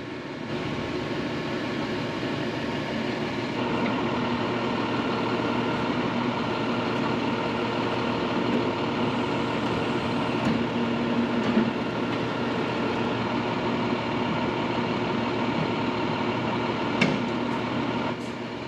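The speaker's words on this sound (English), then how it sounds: "With the boom and the auger, they drilled down." A boom truck auger drills a 6-foot hole for a 40-foot electric pole, giving a steady, distant engine drone with a constant grinding rumble throughout.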